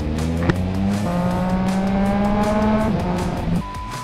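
A Triumph Street Triple R motorcycle fitted with a Zard exhaust revs up close and loud, its buzzy engine note holding high and steady for a few seconds before dropping back.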